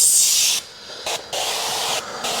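Short bursts of spray hiss against the window seals of a 2018-2022 Honda Accord, loud and close, with brief pauses between three or four passes.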